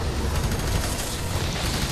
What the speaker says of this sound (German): Ja, der ist explodiert.